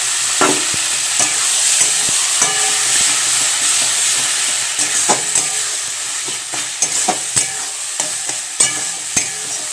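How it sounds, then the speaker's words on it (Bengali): Ground spice paste loosened with water being fried and stirred in a pan for a pointed gourd and prawn dish, a steady sizzle under repeated sharp spatula knocks and scrapes, close and fairly loud, with no speech. "মশলাটা যে বেটে রেখেছি ওই জলটা দিয়ে হালকা হালকা করে কষাবো।"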